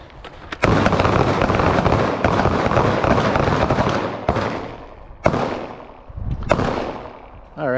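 Several loud, sharp pistol shots from a Staccato 2011 XC at a shooting range, spaced irregularly with ringing decay between them.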